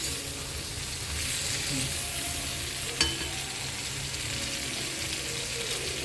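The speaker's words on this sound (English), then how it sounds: "Payasam is also boiling nicely on the other side" Pots of payasam and water boil on a stove, giving a continuous, even, hissing bubble throughout, with a single sharp clink partway through.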